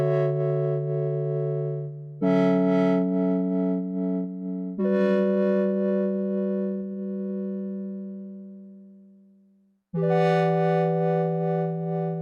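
A synthesizer playing sustained, buzzy held notes while an expression pedal sweeps the filter cutoff, the tone opening and closing in brightness; three long chords, the second fading slowly to silence before a final chord enters.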